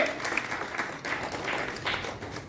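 A short burst of applause at a house lease struggle committee meeting honours a member, brief and fairly faint.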